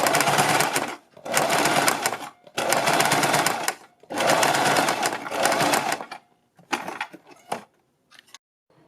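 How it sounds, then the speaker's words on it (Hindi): A sewing machine stitches the middle section of a kurti neckline, running in several loud, close bursts of rapid whirring separated by brief pauses, ending in shorter stop-start runs. "और अब हम अपने इस बीच के हिस्से पर सिलाई लगा लेंगे।"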